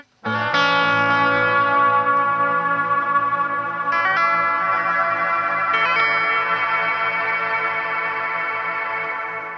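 An Amplitube X-Space reverb pedal's X-switch freeze effect holds a sustained, shimmering guitar chord that rings on evenly, with fresh notes played on top around four and six seconds before the frozen wash fades slightly.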